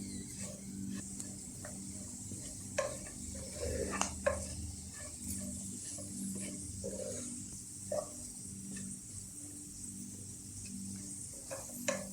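Jackfruit seeds fry in a pan with a quiet, steady sizzle under occasional soft scrapes and taps of stirring, set against a low background hum, without any speech.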